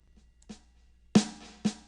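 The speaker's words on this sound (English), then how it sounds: "here's a snare that I programmed in" A programmed snare drum plays alone: one soft hit, then two sharp, loud cracks about half a second apart, each ringing briefly in otherwise silent surroundings.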